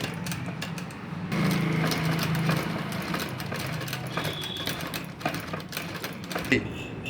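A sewing machine stitches a curved middle seam on small baby summer shorts, a fast continuous motor whir running for several seconds, close and moderate in level, while someone talks over it.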